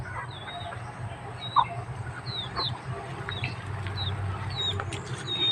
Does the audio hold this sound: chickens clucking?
yes